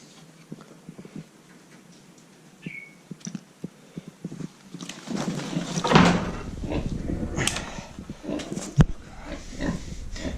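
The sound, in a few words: pig grunting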